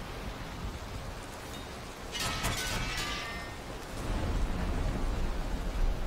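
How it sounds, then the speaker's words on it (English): Stormy weather in the video game Valheim: a steady wash of rain noise that swells brighter for a moment and then grows heavier and louder toward the end, with no voices. "Ooh, it's stormy."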